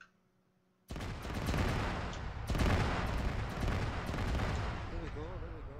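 Arma 3 gunfire and explosions on Tanoa, a run of loud close blasts and shots after a near-silent opening second, with long rumbling tails and a player's voice briefly audible underneath.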